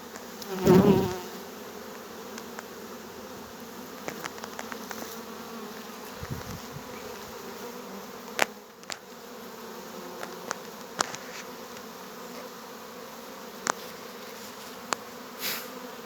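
Steady buzzing from many agitated honeybees, a continuous drone with a brief louder burst near the start and occasional clicks and knocks.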